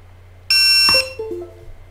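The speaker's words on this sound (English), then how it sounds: "hopefully we only get one connection beep" A USB connection beep sounds from a Hubsan Zino drone controller as it is plugged in for a firmware update: one short, loud electronic tone, followed by a few softer falling blips.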